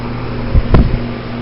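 A 2008 Goodman central air conditioner runs indoors late on a January night, giving a steady, close low hum with a tonal drone. A brief rustling bump rises from it near the middle.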